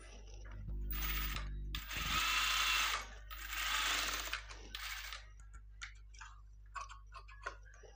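A sewing machine runs in several short bursts, stitching saree cloth, with quiet clicks and handling ticks between runs, close and clear, no talk.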